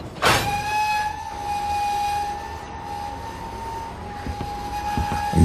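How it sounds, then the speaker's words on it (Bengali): A train brakes to a halt at a station, letting out a sharp onset followed by a sustained, loud, high metallic squeal that holds steady for several seconds over a low rolling rumble. "তখনই ট্রেনটা একটা অজানা স্টেশনে এসে ব্রেক কষল।"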